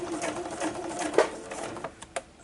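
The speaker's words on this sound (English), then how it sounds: "and then we're just going to sew down" A sewing machine stitches down a sunglasses case with a steady, fast mechanical whirring and needle patter, close up, ending with a couple of light clicks.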